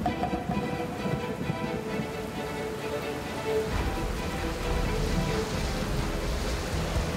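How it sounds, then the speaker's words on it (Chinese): Rain falls at an outdoor barbecue gathering, a steady dense hiss of drops pattering on surfaces that stays even and fairly close throughout, with no voices over it. "哎呦，下雨了"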